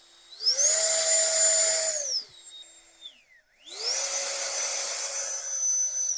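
A turbo fan leaf blower roars at its boosted turbo setting with a steady high-pitched whine that winds down, dips almost to silence, then spins back up to full speed.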